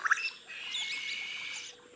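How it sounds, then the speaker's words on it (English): A yellow-rumped cacique on the Venezuelan plains gives a loud, varied, raspy call that rises and falls for about two seconds against an open outdoor background. "The yellow-rumped cacique is another typical vocal inhabitant of the Venezuelan plains"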